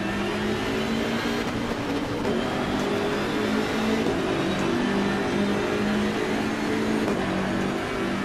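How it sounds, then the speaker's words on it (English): A BMW race car in Assetto Corsa Competizione accelerates hard from a green-light start, its engine a steady, loud roar with a sustained rising drone and no talk over it. "See how this BMW drives compared to a Lamborghini"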